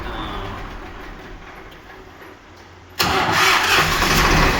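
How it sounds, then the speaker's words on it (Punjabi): A Swaraj 969 CRDI tractor that is hard to start cranks with a low, strained churn, then its diesel engine catches abruptly and settles into a loud, steady idle close by. "ਬਹੁਤ ਰੌਂਡ ਲੈ ਕੇ ਸਟਾਰਟ ਹੁੰਦਾ"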